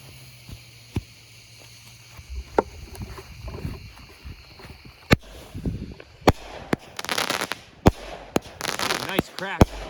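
A Dominator Diamondback 16-shot 200-gram firework cake fires a series of sharp outdoor bangs and crackling bursts, with spaced launches building into denser crackle, while people react and talk over it.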